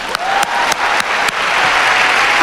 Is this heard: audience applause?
yes